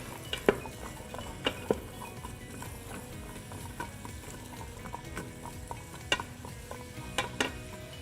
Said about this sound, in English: we're kind of just gonna stir it around with the oil and the butter just to brown them